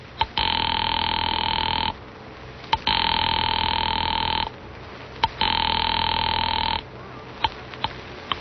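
An old-style telephone in a 1945 radio drama rings in three long electronic bursts separated by short pauses, loud and close, with faint clicks between rings.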